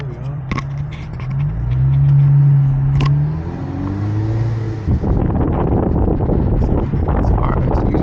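An Infiniti Q50 in sport mode drives past: a steady, loud engine and road roar that swells around the second second, then turns into harsher, busier rumble with wind buffeting over the last few seconds.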